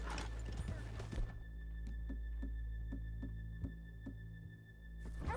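Hooves clop in a slow, even walking rhythm, about a dozen distinct strikes, with a steady hum underneath and bursts of noise at the start and end.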